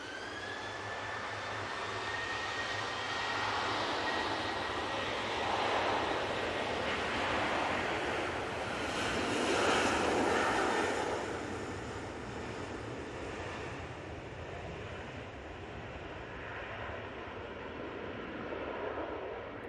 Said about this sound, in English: Virgin Atlantic A330 now touching down with some very dodgy cowling